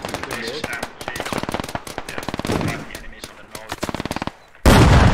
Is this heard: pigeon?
no